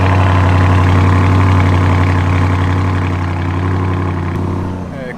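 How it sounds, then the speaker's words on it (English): A Lamborghini Urus engine idles steadily through its factory exhaust, a deep, close, even rumble that holds for several seconds before fading slightly at the end. "Factory exhaust."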